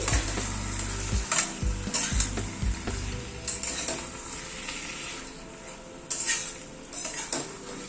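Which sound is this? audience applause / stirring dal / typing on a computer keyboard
stirring dal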